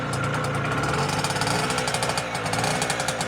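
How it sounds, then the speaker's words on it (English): An NSU Quickly S23 moped engine runs steadily close by, a loud, fast pulsing putter with a rough knocking edge that holds even throughout, with no talk. "a little bit of decompression, a little bit of throttle, and hopefully it will start."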